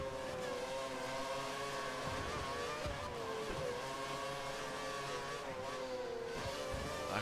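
A Formula One car in the F1 2013 racing game at Suzuka screams at high revs, its engine pitch rising and dipping through gear changes and corners, loud and unbroken with no voices.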